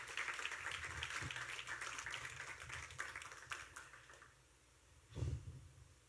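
A congregation clapping during a Spanish-language Sunday church service, a dense wash of hand claps that thins out toward the end, with a louder thump near the close.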